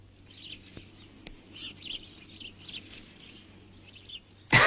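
Small birds chirp in quick, repeated bursts over a low steady hum, fairly faint and close, ending with a sudden loud noise.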